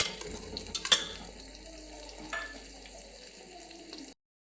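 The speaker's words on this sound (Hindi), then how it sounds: "अब हम दोनों को भूनेंगे इकट्ठा।" Chopped onion and green garlic fry together in a pan for mung bean dal, with a soft steady sizzle broken by a few sharp clinks of a spoon stirring against the metal.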